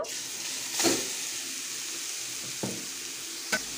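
Grated carrots fried in heated ghee and oil for carrot laddus, a steady hiss of sizzling with a few sharp stirring scrapes spaced across it, close and fairly quiet, with no talking.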